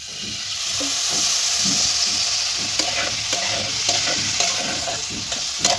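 Spice paste being stir-fried in a pan for a vegetarian kohlrabi curry, a steady close sizzle with frequent scraping and clacking strokes of a spatula stirring through it, no talking.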